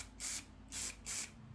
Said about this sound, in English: I'm going to spray my section